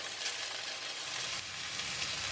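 Tofu and egg frying in a pan of mee goreng noodles, a loud, even hiss of sizzling oil running throughout, close and without speech.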